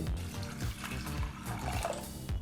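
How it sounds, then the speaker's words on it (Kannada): Water is poured into a pressure cooker over soaked chickpeas, a soft, continuous splashing and gurgling of liquid heard faintly and alone. "ಕಡಲೆಕಾಳು ಮುಳುಗುವಷ್ಟು ನೀರನ್ನು ಸಹ ಹಾಕಿ"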